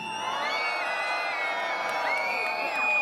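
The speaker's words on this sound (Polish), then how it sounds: "Wielkie brawa z okrzykiem jak na stadionie olimpijskim." A crowd at a Three Kings Day procession in Lubin whoops and cheers in a sustained, loud burst of high-pitched shouting, with no distinct clapping standing out.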